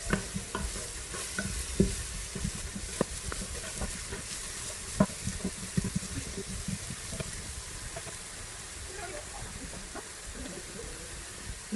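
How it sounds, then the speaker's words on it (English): Turmeric fries in oil for mohinga, a soft crackling sizzle broken by clinks and scrapes of a utensil stirring the pan, fairly quiet and close, with no voices. "Now we can fry the turmeric"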